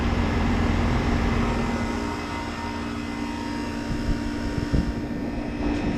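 A commercial HVAC unit at a business complex in Orlando, running just after startup, gives off a loud, steady mechanical drone with a constant hum. There are a few small knocks near the end and no voices.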